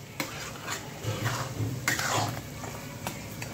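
A spoon stirs sugar through bottle gourd halwa in a pan, a soft scraping and shuffling with a few light clinks against the metal, fairly close and steady.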